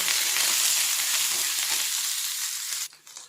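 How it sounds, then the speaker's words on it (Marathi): Onion frying in a little oil in a pan, a dense close sizzle that holds steady and then drops away abruptly near the end. "यात थोडंसं तेल टाकून आपल्याला हा छानसा कांदा परतून घ्यायचा आहे"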